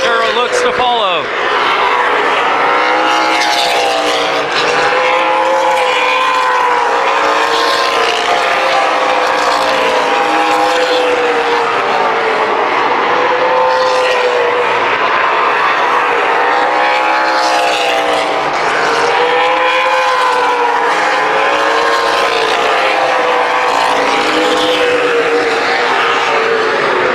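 Race cars roaring around Columbus Motor Speedway in a main event, a continuous loud engine drone with rising and falling pitch as cars pass, with a commentator talking over it throughout.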